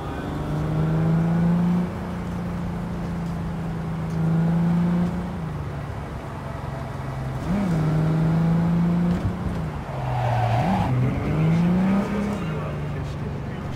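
A car driven through Night City in Cyberpunk 2077, its engine droning with rising and falling revs between gear changes and a brief tire squeal near the end, while someone talks over it.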